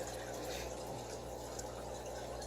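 Steady bubbling and water burble from an aerator in an axolotl aquarium tank, a continuous close, moderately loud wash of gurgling with no pauses.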